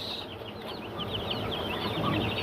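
Broiler chicks in their first week, kept in a cage wrapped with sacking, cheep continuously in a busy overlapping chorus of high peeping calls at close range, steady throughout.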